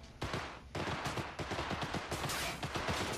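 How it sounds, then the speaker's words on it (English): Rapid gunfire in the video game Cyberpunk 2077: dense, repeated shots and automatic bursts crackling loudly and almost continuously over a busy game background. "I hear gunshots"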